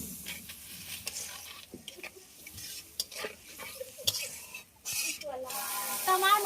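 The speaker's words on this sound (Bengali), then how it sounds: "এখন গুঁড়া মশলাগুলো দিয়ে দেবো, লবণ, হলুদের গুঁড়া আর 1 চামচ ধনিয়ার গুঁড়া। এখন এগুলো দিয়ে মিশিয়ে নেব আমরা।" A spoon scrapes and stirs ground salt, turmeric and coriander in a cooking pot with oil, irregular clinks and scrapes close by, giving way to a rising sizzle near the end, with a voice speaking at times.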